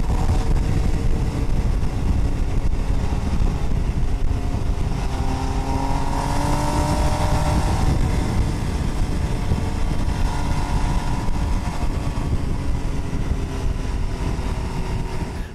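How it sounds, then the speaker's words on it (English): MV Agusta Brutale 800 RR, the top-of-the-line Brutale 800 triple, ridden near Lake Varese, with a loud steady engine drone and rising revs mixed with rushing wind for the whole stretch, no voices. "we have been riding the MV Agusta Brutale"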